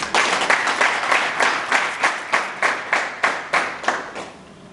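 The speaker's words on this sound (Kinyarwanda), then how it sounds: "Mwabambira amashyi." A crowd at a religious wedding claps in rhythmic unison, about a dozen sharp beats in steady tempo that fade toward the end.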